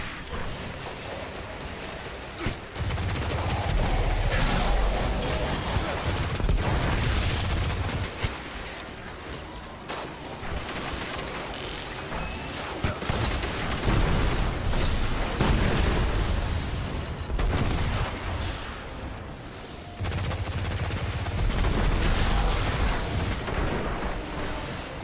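A gun firing in the video game Destiny, dense loud rounds of shooting and booming impacts in long sustained bursts with short lulls between them, continuous throughout.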